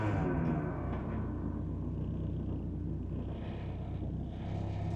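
Interior engine drone and road rumble from an 1100 car with a 3-synchro gearbox, a steady low hum, faint and even throughout without talk.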